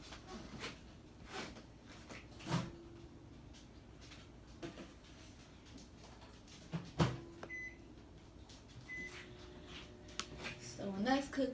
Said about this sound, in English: I will put it in the microwave for probably about 10 seconds on each side